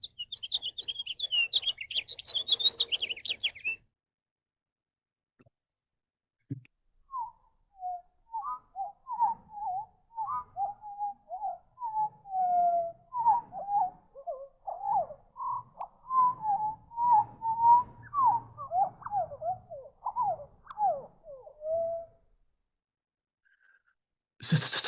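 Complex birdsong of rapid whistled phrases, heard first briefly at normal speed as a high burst, then slowed down into a long, lower run of warbling notes, clear and alone without talk.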